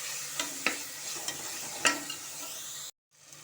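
Fresh mint and coriander leaves stirred in a frying pan for mushroom biryani give a steady soft sizzle broken by a few light spatula scrapes, then a brief cut to silence near the end.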